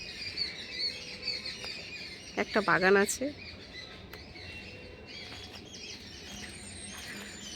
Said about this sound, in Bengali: আর পাশে পাখিগুলো কি ডাকছে